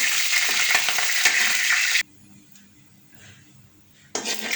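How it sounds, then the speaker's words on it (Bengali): Dried red chillies fry in about a tablespoon of oil, a loud, dense sizzle that cuts out to near silence for two seconds before the crackle returns. "শুকনো মরিচ একটু ভেজে নিলাম তেলের মধ্যে"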